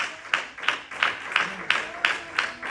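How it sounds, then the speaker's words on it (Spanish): A congregation at a church service claps in gratitude to God, a steady rhythmic beat of about two claps per second with a soft murmur of voices underneath. "Yo no sé cuántos me acompañan con ese aplauso, aleluya, en gratitud a este Dios maravilloso."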